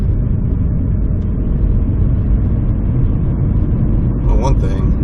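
A Saturn car with a freshly repaired transmission cruises down the road, giving a steady drone of engine and road noise. A brief voice rises over it near the end.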